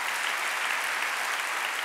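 A church congregation clapping together during a Wednesday worship service, a full and even wash of applause that holds steady at the same level from start to finish.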